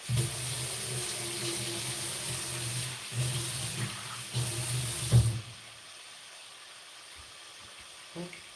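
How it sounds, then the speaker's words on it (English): Hot water runs from a kitchen tap while cooking lasagna, a steady hissing stream with faint knocks and clatter, then the flow stops partway and the room goes quiet apart from a final clunk. "Add some hot water."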